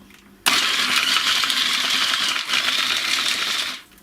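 A food processor whirs at high speed, close and loud, blending a vegan chocolate orange bliss ball mix with orange zest, juice and vanilla extract for about three seconds with a brief dip midway. No talking is heard.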